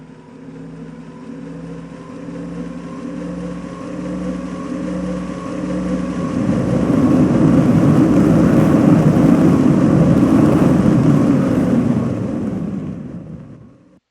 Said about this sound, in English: Brace for thrust.